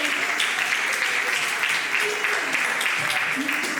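An audience applauds after a song in a sign-language performance of "La Carlota" at Prodis, giving continuous even clapping that holds steady with faint voices underneath.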